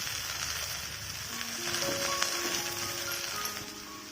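A cabbage thalipith sizzling in oil or ghee in a pan, a steady close frying hiss that carries on through the whole moment with faint scattered crackles and no talk.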